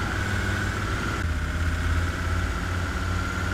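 A car engine idles and rumbles in the Arma 3 video game, a steady low mechanical drone with a constant tone that shifts slightly partway through, moderately loud and uninterrupted.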